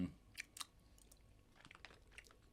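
Candy Kittens sweets are chewed close to the mic, giving soft, irregular wet chewing and smacking sounds that stay quiet and fairly continuous.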